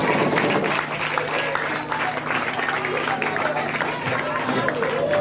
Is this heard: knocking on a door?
no